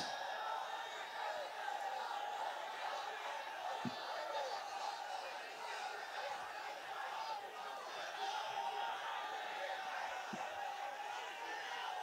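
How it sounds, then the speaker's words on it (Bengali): A large gathered crowd at an Islamic religious gathering calls out a takbir together, forming a sustained, dense roar of many voices that holds steady throughout, with occasional sharp knocks. "সুন্দর তাকবীর হইছে"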